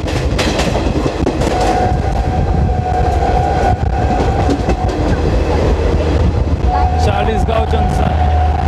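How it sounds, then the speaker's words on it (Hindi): The Mumbai–Jabalpur Garib Rath Express rolls through Chalisgaon railway station, heard from on board as a loud, continuous rumble with rhythmic clatter from the wheels and a sustained tonal squeal or horn partway through. "दोस्तों अभी चालीसगांव रेलवे स्टेशन को स्किप करने वाली है ट्रेन"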